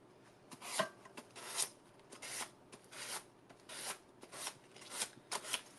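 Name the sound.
sanding with a piece of sandpaper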